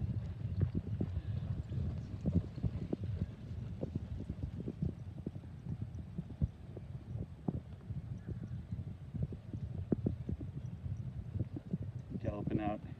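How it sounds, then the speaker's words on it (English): A racehorse gallops during a morning workout on the outside track at Saratoga, its hooves drumming in a fast, steady rhythm at a moderate distance. "Galloping out, nice."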